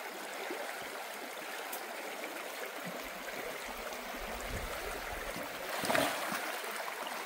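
A shallow stream running over stones in the countryside, a steady, soft wash of flowing water, even and close, with a brief louder splash near the end and no voices.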